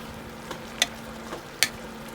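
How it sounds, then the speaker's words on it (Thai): Sour bamboo shoot curry is stirred in a pot, with a low steady bubbling simmer beneath two sharp clinks of a utensil against the pot, close and quiet with no talking. "ผัดไปผัดมาแล้วก็ปล่อยให้เขาเดือด ผัดให้เข้าเนื้อเข้าน้ำเลยค่ะ"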